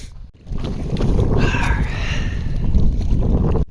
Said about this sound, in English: Paddled out to the first island.